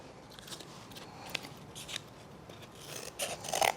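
Scissors make a series of cuts, crisp snips spaced irregularly, quiet at first and then a quicker, louder cluster of snips at the end.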